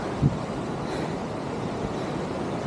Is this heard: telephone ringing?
no